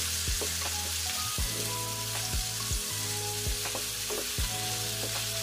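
Soy-sauce-marinated chicken liver fries in a pan with a steady bright sizzle, punctuated by repeated low clunks of stirring over about five seconds.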